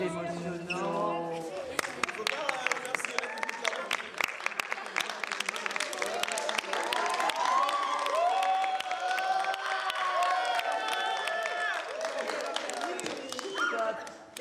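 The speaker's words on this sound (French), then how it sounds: "Trop d'applaudissements alors que vous n'avez pas encore joué." Audience applause fills a concert hall before the performers have played, a dense steady wash of clapping with a few cheers, continuing under a speaking voice.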